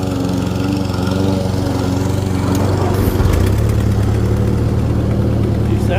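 An 80-year-old Ford 2N tractor engine runs loud and steady close by with a low, even throb, and its pitch shifts partway through as the engine changes speed.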